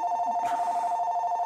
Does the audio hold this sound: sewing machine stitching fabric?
no